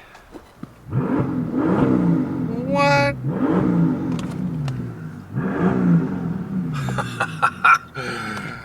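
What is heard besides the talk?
V12 bi-turbo car engine revving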